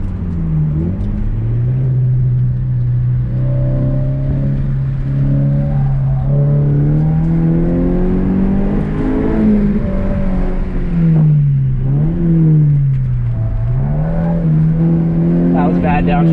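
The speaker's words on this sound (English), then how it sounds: "That was bad downshift." Car engine in an SCCA autocross run, rising and falling through a rough downshift, with steady loud revs that dip and surge again near the end; a person talks over the engine throughout.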